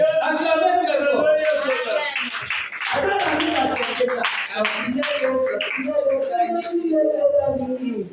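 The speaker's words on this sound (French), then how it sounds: "Acclamez très fort." A crowd applauds with rhythmic clapping under loud chanting and shouting voices, the cheering staying full and close throughout with a brief dip midway.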